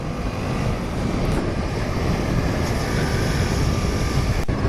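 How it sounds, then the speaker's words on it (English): A steady, broad engine rumble from a helicopter passing overhead, loud and continuous throughout with no voices. "Ooh, helicopter."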